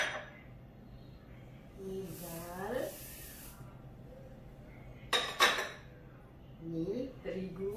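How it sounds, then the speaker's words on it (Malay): Rice, dal, wheat and barley grains being rinsed in a pot for porridge, with water splashing and hissing, grains swishing and a few clinks of cookware, close up with faint background murmur. "Sementara tu saya nak cuci dulu 4 dara saya ni. Bijiran-bijiran ni saya cuci dulu."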